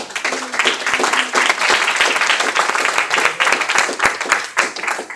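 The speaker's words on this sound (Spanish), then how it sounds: "Le da una ofrenda de aplausos usted al Señor." A church congregation at a Spanish-language service bursts into brisk, lively applause, with sharp individual claps standing out in a steady, moderately loud crowd of clapping.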